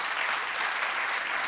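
Steady, dense applause from a game show studio audience on Wheel of Fortune, a loud unbroken wash of clapping throughout with no pause.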